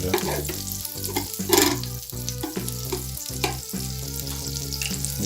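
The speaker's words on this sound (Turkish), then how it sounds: "Izgaramızın üzerine biraz tereyağı şöyle" Butter sizzling on a hot grill for an İzmir kumru sandwich, a dense steady frying hiss close by, while a tonal instrumental music bed plays throughout without speech.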